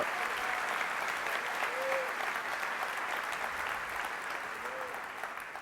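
A church congregation claps steadily in a morning service, a dense, even wash of applause at moderate distance that tapers slightly toward the end.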